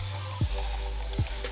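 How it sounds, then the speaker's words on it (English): A spray bottle spritzes water onto dry type 4 natural hair in two quick, close bursts about a second apart. "I'm gonna spray it with some water"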